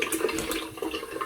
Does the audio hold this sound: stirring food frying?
no